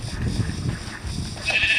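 A sheep in the Minecraft video game gives a short bleat against a low, busy background of game sound, fairly close and brief.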